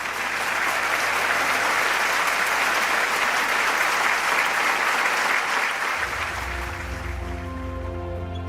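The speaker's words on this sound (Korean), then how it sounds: "큰 박수로 무대에 모시겠습니다" A concert audience at a peace festival applauds to welcome a singer to the stage. The clapping is dense and loud for about six seconds, then fades as music begins.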